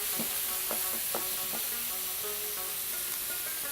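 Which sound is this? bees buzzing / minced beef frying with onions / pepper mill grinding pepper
minced beef frying with onions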